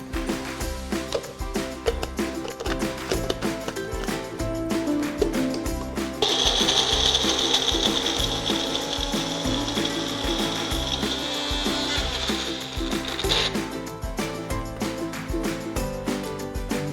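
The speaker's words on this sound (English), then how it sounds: "We are going to just add some softened butter to the mixer grinder itself." A mixer grinder blitzes biscuits with softened butter, a steady whirring grind with rattling contents that swells louder and brighter midway for several seconds before settling back, close and continuous with no talk.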